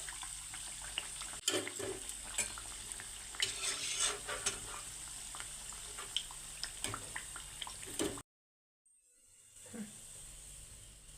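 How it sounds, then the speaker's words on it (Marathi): Chana dal masala vadas deep-fry in oil on a low flame, giving a steady, dense sizzle with small crackles and pops for about eight seconds before it cuts to near silence, then a quieter bubbling returns. "हे वडे आपल्याला मंद आचेवरती तळून घ्यायचे आहेत"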